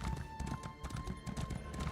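Horse hooves clip-clopping in a video game as the rider travels, a steady quick patter of hoofbeats over a low droning background tone, fairly quiet and continuous.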